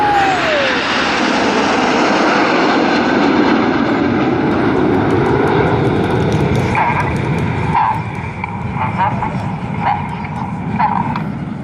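Red Arrows jets flying past in Diamond formation at the Southport Airshow, a loud, sustained roar of jet engines that fills the air and shifts slightly in tone as the aircraft pass, while an announcer talks over it.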